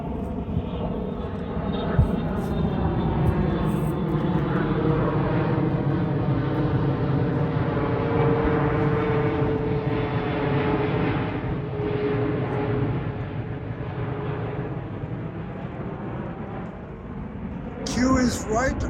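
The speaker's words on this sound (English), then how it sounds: "Kew is right underneath the flight path of the planes coming into land at Heathrow" Low-flying plane passing over Kew Gardens on approach to land at Heathrow, a loud sustained roar with a slowly shifting engine drone lasting nearly twenty seconds, building and fading gently.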